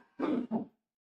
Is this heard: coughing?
yes